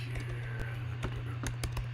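Sparse, uneven computer keyboard keystrokes tap close by over a constant low hum, with a few distinct sharp clicks and no talk.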